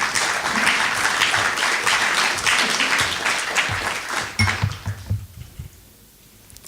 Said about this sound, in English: a very warm welcome and applause for Julia Kloiber